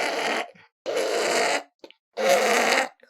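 A human voice imitating a thomod, a scraped stone chime from a video game, with three rough, buzzy rasping bursts separated by short silences.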